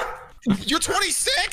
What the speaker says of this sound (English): He's upset. That's my dog.